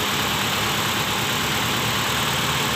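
A Honda City i-DSI petrol engine idles steadily after its ignition coil is reconnected, a continuous, even mechanical drone that stays close and constant with no voices over it.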